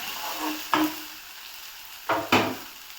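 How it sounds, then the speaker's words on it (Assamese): Soybean chunks frying in hot oil in a pan, a soft steady sizzle with a few sharp bursts of crackling as they are stirred, close and loud without speech. "সয়াবিনখিনি ভাজি থাকিম ৰঙা হোৱালৈকে"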